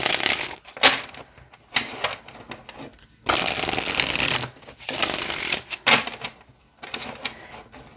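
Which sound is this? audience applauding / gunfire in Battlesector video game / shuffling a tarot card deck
shuffling a tarot card deck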